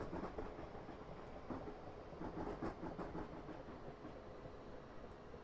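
Train in a simulator game running over track toward a station platform with its brakes applied, a steady low rumble and rail clatter at moderate level, no talk over it.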